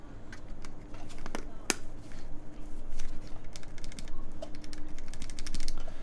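Rapid clicking keystrokes from a Bowl Pangea Mini mechanical keyboard tap in uneven bursts, close by, with faint background noise and no voices.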